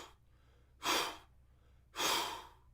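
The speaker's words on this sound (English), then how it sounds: "we do 3 candle blows, and that's a deep-ish inhalation and then a forced exhalation" Two deep diaphragmatic candle-blow breaths before a freedive, each a sharp, forceful exhalation at close range, the pair separated by a quiet pause.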